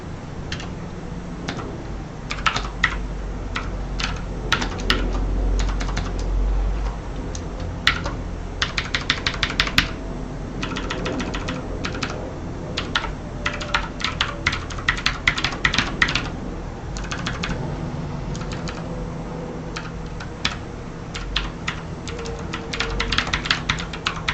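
Code being typed on a computer keyboard: steady clusters of soft key clicks in irregular bursts with brief pauses, close and fairly quiet over a low background hum.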